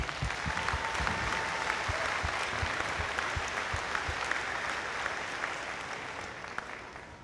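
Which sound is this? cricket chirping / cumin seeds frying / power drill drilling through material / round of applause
round of applause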